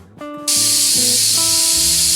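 Pressure cooker whistle shrieking as steam bursts out, cooking guar beans; a loud, steady hiss fills the air after a brief tonal toot at the start.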